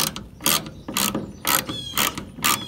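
Ratchet wrench working rusted bolts loose on a 1958 VW bus rear frame, sprayed with penetrating oil; five or six close, sharp clicking bursts in an even rhythm, roughly half a second apart.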